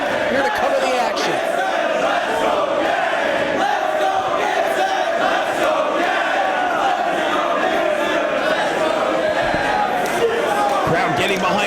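Crowd at a Ring of Honor professional wrestling event, loud and continuous, cheering and chanting throughout with a dense, sustained roar, with a commentator talking underneath.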